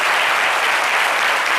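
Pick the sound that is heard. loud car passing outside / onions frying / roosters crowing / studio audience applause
studio audience applause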